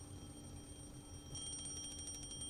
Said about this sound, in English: shut off the alarm by reflex